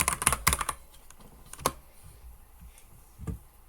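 Computer keyboard typing in short clustered bursts of sharp clicks, a quick flurry at first, then scattered single keystrokes close by with quiet pauses between.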